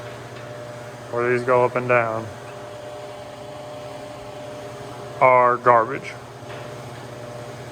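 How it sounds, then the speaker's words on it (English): A heater runs in a cold garage, giving a steady droning hum with a faint tonal whine throughout. Two short bursts of someone talking sit on top of it. "sorry about the heater noise, it's still cold here"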